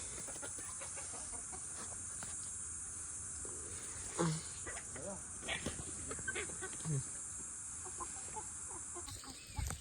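Desi gavran hens cluck in short, scattered bursts on a poultry farm, set against a steady outdoor hiss of insects and background noise, with occasional voices nearby.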